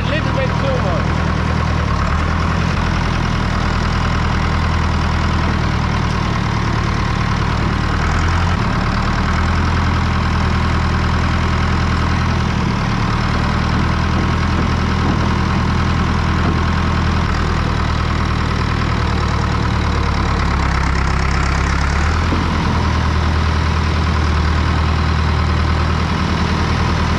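A Massey Ferguson MF50 tractor with a back actor idles on a farm, a steady low chugging engine rumble heard close and loud throughout, with speech over it.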